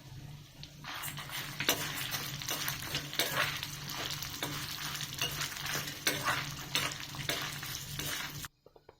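Chana dal and urad dal fry in hot oil, a continuous close sizzle broken by frequent scraping and clinking stirs, ending abruptly in silence.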